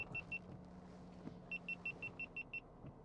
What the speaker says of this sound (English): That's the reversing sensors